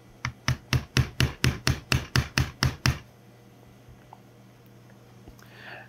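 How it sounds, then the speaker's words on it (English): Eleven sharp, evenly spaced hammer taps drive a frame pin into a Glock 17/19 Gen 3 lower during a parts kit install, close and loud, followed by quiet room tone. "We're going to just finish and drive this home with a hammer quick"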